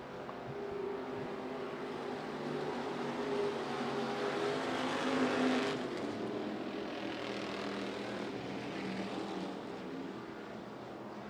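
Thunderstock stock cars roar around an oval track with a broad, continuous engine drone that swells and fades slightly as the pack moves through the turns.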